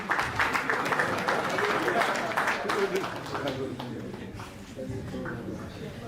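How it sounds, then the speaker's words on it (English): An audience at a stakeholder policy dialogue on blockchain implementation applauds a leader with dense, sustained clapping that fades slightly toward the end, while someone talks over a microphone. "Please, keep on clapping."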